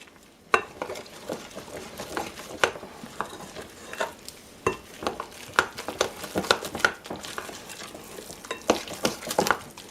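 A spoon working through thick oatmeal muffin batter in a bowl, giving soft wet scrapes and irregular clicks against the sides at a steady stirring pace, close and fairly quiet with no talking.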